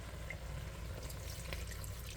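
Water runs into a pot of Banga palm nut soup as a steady, low rushing pour, close and fairly faint, with a light bubbling hiss.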